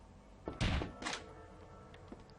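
Two heavy, close thuds of knocking on a door in the game MoshimoSHI, NEE, spaced about half a second apart, followed by a faint lighter tap.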